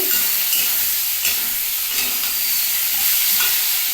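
Potato and onion frying in plenty of oil in a kadai, a loud continuous sizzle and crackle with stirring scrapes throughout.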